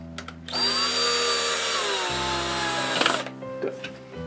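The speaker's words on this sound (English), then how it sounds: "I like using the power driver for setting the clamps up quickly." A power driver whirs loud and close for about two seconds while tightening clamps on a woodworking glue-up, its pitch dropping as the load increases, then it stops and leaves a few faint clicks and handling knocks.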